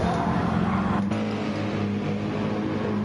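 A BMW race car engine at Monza drones loud and close in a steady, sustained tone through a chicane, with no talk over it.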